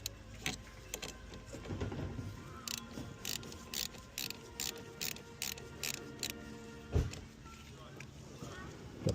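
A ratchet loosens the 10 mm battery terminal nut on a 2022 Jeep Wagoneer, its quick clicking strokes coming in short bursts, fairly faint, with a voice speaking over it.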